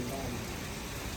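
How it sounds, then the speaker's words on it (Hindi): Heavy rain pours down in Italy, a dense, steady hiss that fills the whole short stretch, close and continuous with no break. "ये देखो बहुत तेज़ बारिश शुरू हो गई।"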